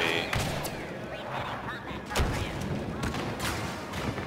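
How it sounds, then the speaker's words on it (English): Grenade blasts and gunfire in a shooter game: several sharp, punchy bangs scattered across a noisy battle mix, with a voice partly audible underneath. "Hljó beint í exploding grenade"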